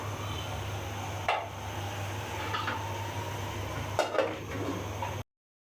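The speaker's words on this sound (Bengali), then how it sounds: "না ফুলে তরকারিটা নাড়া দিয়ে নিচ্ছি।" A potato and bitter gourd curry is stirred in a pot, with two distinct metallic scrapes and clinks over a quiet background hum. The clip then cuts to silence, with no talking.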